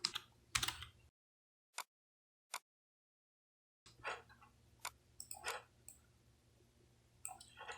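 Someone types on a computer keyboard while working in Photoshop, the keys clicking up close and soft. A short burst gives way to a few isolated taps. After a pause comes a busier, uneven run of typing.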